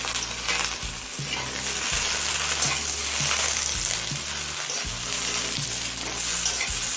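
Okra and onion fry together in a pan, a loud, dense sizzle running throughout, with background music humming beneath it.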